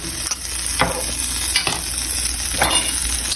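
Cajun-style shrimp scampi with garlic is stirred in a pan, giving a steady close sizzle with a few scraping utensil strokes through it.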